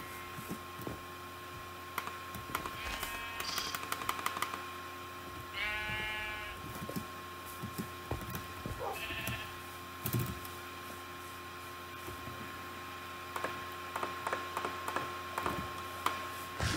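Sheep bleating in the Minecraft video game, a few short, quiet bleats spaced out over background game clicks and ticks, without any talking.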